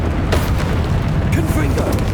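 A Confringo spell blast in Hogwarts Legacy erupts as a loud, booming fiery burst over a dense roar of battle noise, with a brief voice cry near the end.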